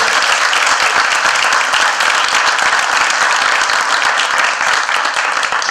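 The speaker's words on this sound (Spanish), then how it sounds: "les vamos a brindar un fuerte aplauso a los panelistas para recibirlos" An audience at a panel talk in Mar del Plata, Argentina, claps steadily to welcome the panelists, dense applause holding at an even loudness for several seconds without voices.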